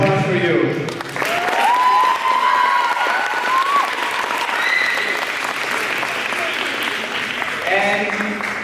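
Loud, sustained audience applause at a panel event, dense clapping filling the room from start to finish, with voices and a few whoops audible over it.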